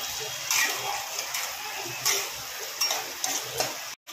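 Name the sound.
carrots and beans frying in a pan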